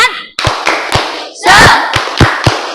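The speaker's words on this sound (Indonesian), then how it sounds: "Tepuk semangat." A classroom of students does a rhythmic spirit clap, crisp clap patterns in unison with shouted chants and voices in between, close and loud.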